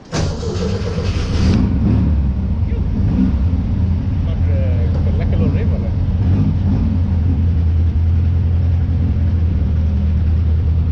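An air-ride VW Beetle drives on a test run, its engine note a steady mid-pitched hum from close by, with a brief rise in revs near the start and continuous road rumble throughout.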